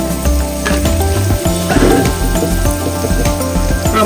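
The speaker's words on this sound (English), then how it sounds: "Into the pot, add all of your seasoning into the pot." Seasoning tipped into a hot pot of sazón-infused rice with sausage and sardines, giving a close, steady sizzle with clinks of a spoon or pot throughout.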